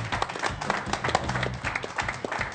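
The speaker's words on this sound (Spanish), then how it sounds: "Un aplauso para estos emprendedores de la calentura" Studio audience at the Chilean variety show Circo applauds the guests, a mixed burst of clapping with some crowd noise and a possible voice underneath, lasting a few seconds.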